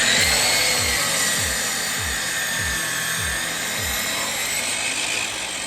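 A saw cuts a 45-degree miter in a wooden brace, with a steady high whine and a run of regular rasping strokes, close and alone with no talking.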